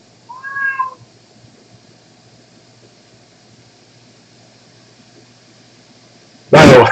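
A cat gives one short, clear meow near the start, then quiet room noise follows until a sudden loud burst of noise at the very end.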